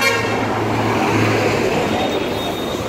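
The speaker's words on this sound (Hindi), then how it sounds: "कोलंबो का ट्रैफिक है" Busy Colombo street traffic, a steady wash of engines and road noise with a long car horn toot sounding near the start and continuing under the din, no voices.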